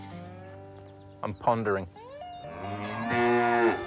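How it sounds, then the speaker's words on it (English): Cattle mooing loudly in a field, with long drawn-out lowing calls that carry over the background while someone speaks over part of it. "Land of the screaming cows."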